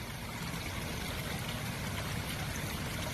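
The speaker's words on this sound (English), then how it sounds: "you'll notice the water is overflowing all the way around this lower bowl. See all that water falling down the sides of it?" Water spilling over the rims of aquascape spillway fountain bowls and falling down their sides, a steady, full, close rushing splash that holds constant throughout with no voices.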